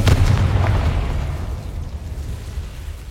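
A fantasy blasting-spell explosion effect hits as one loud, deep boom right at the start, then rumbles and decays steadily over a few seconds with no voices.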